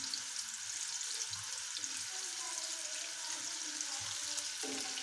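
Medium-sized onion frying in hot oil for chicken yakhni pulao gives a steady, soft sizzle and crackle, with a few faint clinks of stirring underneath.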